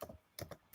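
Several quick keystrokes on a computer keyboard as a web address is typed, arriving in short separated bursts at close range with no talking.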